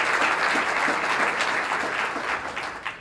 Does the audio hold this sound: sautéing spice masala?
no